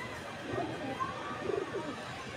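Imported male pigeons kept up on a rooftop give a few soft, low coos, fairly faint against steady background noise.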